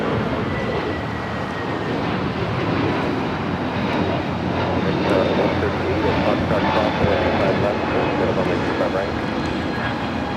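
A jet airliner takes off from runway 25 right at Los Angeles International Airport, its engines a steady broad roar that holds loud and even throughout, with faint talk underneath.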